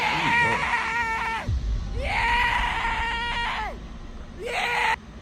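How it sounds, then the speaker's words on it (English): A man yells loudly in long, strained bursts, three drawn-out screams separated by short pauses, close and harsh, during a street water fight in New York City. "He yelling at the top of his lungs."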